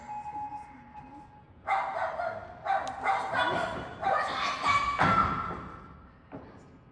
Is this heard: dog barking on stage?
yes